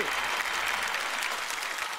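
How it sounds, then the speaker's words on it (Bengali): A studio audience at a televised show breaks into loud, dense applause, with many hands clapping close and continuously throughout. "জোরে হাততালি।"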